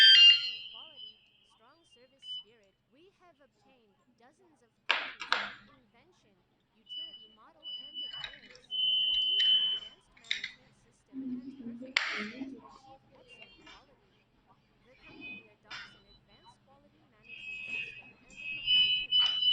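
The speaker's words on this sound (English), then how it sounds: "We are showing the product bike alarm." Wireless vibration-sensor bicycle alarm, rated 113 dB, giving short shrill electronic beeps and chirps in scattered bursts, some with rattling handling knocks, while a person speaks in between.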